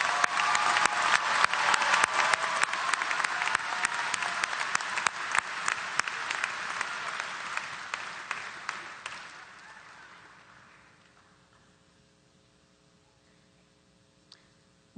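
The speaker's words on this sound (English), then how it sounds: "How about a round of applause for all of our graduates?" A commencement crowd applauds the graduates, steady dense clapping that fades gradually over about ten seconds into near silence, with a single faint click late on.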